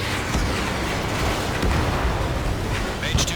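A ground target blows up in the Ace Combat 7 flight combat game, a dense, sustained rumbling blast filling the clip at steady loudness, with a voice over the radio.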